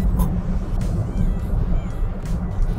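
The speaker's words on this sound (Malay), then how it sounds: "Masuk corner, break sikit." A 2023 Perodua Axia car rumbles low and steady while braking into a corner, with a muffled cabin drone and faint squeaks, no speech.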